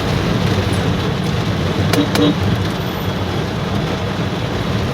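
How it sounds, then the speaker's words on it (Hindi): Heavy rain pounding on a car, a dense, loud, continuous roar with no let-up. "किस लेवल की बारिश पड़ रही है भाई, ज़बरदस्त"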